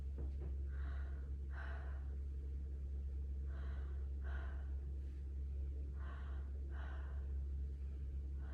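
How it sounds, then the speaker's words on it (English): A patient breathes deeply in and out through the mouth, slow regular breaths repeating about three times over a steady low background hum. "please just take deep breaths through your mouth a little bit deeper than you normally would breathe"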